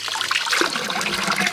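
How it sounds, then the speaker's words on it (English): Spring water from the mountains near the village of Kissos runs in a close, steady splashing trickle, bubbling and gurgling without pause. "It's water coming from the spring in the mountains."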